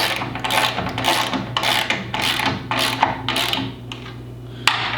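Nuts are tightened on a Whelen Vortex light bar mount with a tool, a run of close, rhythmic metallic ratcheting clicks in repeated bursts, ending with one sharp clack.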